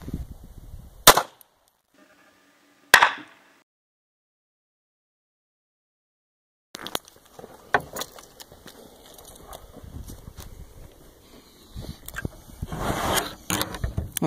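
A Walther P22 .22 pistol fires into a milk jug: two sharp, loud gunshot cracks about two seconds apart, followed by silence and then rustling, handling noise and background clatter.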